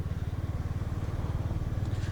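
Motorcycle riding through dense fog, its steady throbbing engine and rumbling rhythm continuous and fairly close throughout, with no talk.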